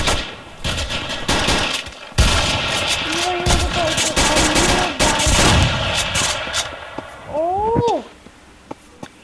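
Gunfire in the online shooter game Kuboom comes in repeated loud bursts of rapid shots, mixed with other game sound effects including short rising tonal sweeps near the end.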